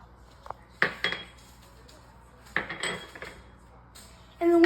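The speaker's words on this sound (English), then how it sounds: "And then whisk till uniform color." A whisk knocks and clinks against a medium mixing bowl of flour, cream of tartar, baking soda and salt, giving a few scattered metallic taps and scrapes close by over a quiet background.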